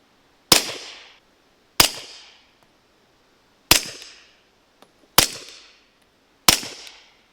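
Five suppressed 9mm gunshots from a Dead Air Odessa 9 suppressor, supersonic Tula rounds, each a sharp close crack with a quick decaying tail, spaced about a second or more apart with silence between.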